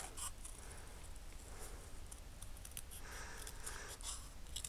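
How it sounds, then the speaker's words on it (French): Paper being cut with scissors to make the arms of paper sunglasses, a run of soft, close snips and rustles with no talk. "Et on va découper nos branches."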